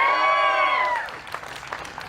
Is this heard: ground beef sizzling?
no